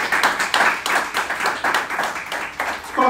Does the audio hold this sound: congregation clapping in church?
yes